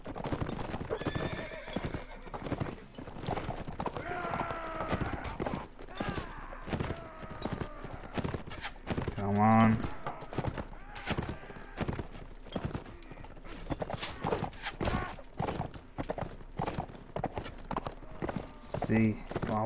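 Galloping horse hooves clip-clop steadily through Mount & Blade: Warband combat, with horses neighing and whinnying, thuds and battle noise, while a player talks excitedly over much of it.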